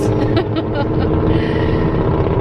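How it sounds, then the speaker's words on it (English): A loud truck passes close by, its broad engine roar filling the whole stretch without a break, with vehicle noise continuous throughout. "that truck is really loud"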